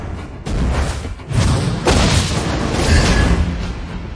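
Heavy booming blasts from the mobile battle game Mobile Legends: Bang Bang, with several deep thuds and a sharp burst near the midpoint, all over dense, loud game effects.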